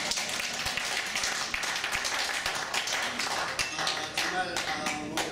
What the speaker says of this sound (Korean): 이럴 때 박수해야 돼요